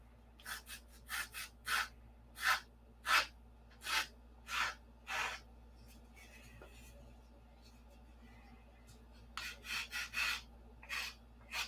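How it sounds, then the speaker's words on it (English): Wood is sanded by hand with 80 grit sandpaper during work on a P-47 model, heard as a series of short scratchy strokes in quick rhythmic bursts, close and moderately loud, pausing midway before resuming, over a steady low hum. "Now I'm already into it with the 80 grit, so we'll just go on with that."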